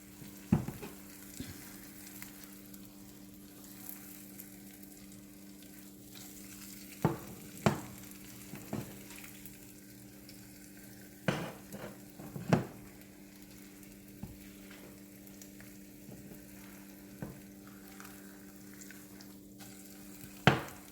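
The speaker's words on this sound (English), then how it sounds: "that's how you flip an egg" An egg frying quietly in a pan and being flipped: a faint, constant low sizzle with a steady hum, broken by scattered sharp clicks and knocks of the spatula against the pan, a few bunched together. No talking.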